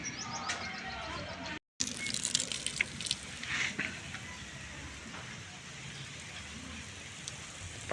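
Water sprays from a DIY plastic bottle sprinkler onto dry garden soil, a faint, steady rain-like pattering outdoors. A brief dropout breaks it early on.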